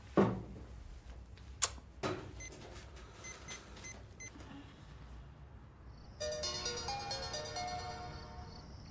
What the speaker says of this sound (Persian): تلفن ترانه است؟